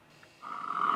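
A Geely Galaxy E5's external car speaker plays a recorded tiger roar, a short growl that swells in from near silence and holds at a moderate level.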